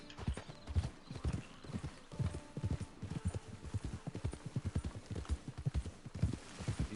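Horse hooves clip-clopping in the video game Red Dead Redemption 2, a steady rhythmic trot of hoofbeats with an occasional faint snort, moderately quiet and continuous.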